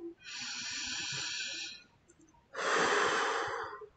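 Two long deep breaths during a guided French tapping session, a drawn-out airy inhale followed after a short pause by a louder, fuller exhale, close and alone with no talking.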